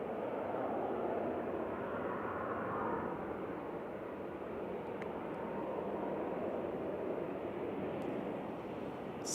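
A Norwegian Boeing 737-800 bound for Oslo roars at Manchester Airport, a loud, steady broadband jet rumble that holds for several seconds without talk.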